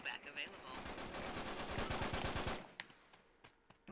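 Rapid automatic gunfire from a firefight in the video game Uncharted 3, a dense burst of shots lasting a couple of seconds, then a few scattered single reports trailing off.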